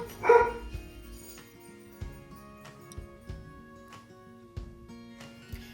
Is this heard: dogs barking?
yes